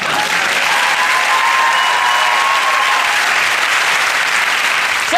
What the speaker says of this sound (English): Let's now have a respectful round of applause for them